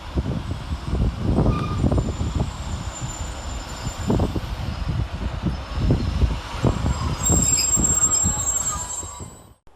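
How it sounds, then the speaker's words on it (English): Class 156 Scotrail diesel units on an East Kilbride to Glasgow Central service pull into Pollokshaws West station with a loud, close rumble of wheels and rail joints, rhythmic clatter and a high squeal of braking as they slow. "here comes our train in the form of 156495 and 156435, working the 1649 Scotrail service from East Kilbride to Glasgow Central"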